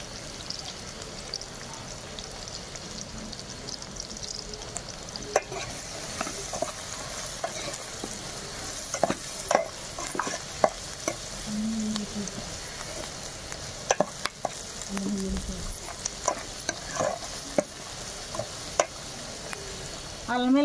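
Sliced onions frying with salt and turmeric in a pan for a chicken cauliflower curry, a continuous close sizzle under scattered clinks and scrapes of stirring with a spoon.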